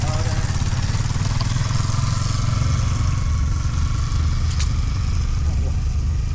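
Motorcycles roar steadily nearby during the Cameron hill climb challenge, a continuous engine drone with people talking over it.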